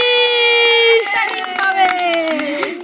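Hand clapping during a children's colour-bottle matching game: after a sustained high-pitched voice, a quick burst of close claps rings out with a voice continuing over them.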